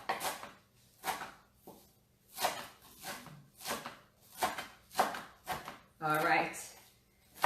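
Knife chopping vegetables for a green detox salad, a series of sharp, fairly quiet thuds at an irregular pace, interleaved with a person talking nearby.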